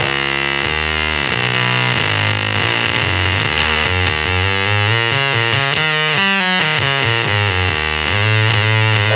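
A garage fuzz pedal in its high-frequency, higher-gain mode snarls with a nasty, saturated distorted tone as a sustained riff of changing notes plays loud and continuous.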